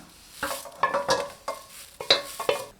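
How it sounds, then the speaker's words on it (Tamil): Urad dal is dry roasted in an empty kadai, a quick series of scraping, rattling stirs close by, with short bursts of sound and brief quiet gaps between them, and no voices. "வெறும் கடாயில் லேசாக செவந்து வர அளவுக்கு வறுத்துக்கலாம்"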